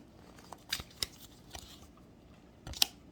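Faint riffling snaps of playing cards being shuffled, a few quick bursts spread across a quiet background.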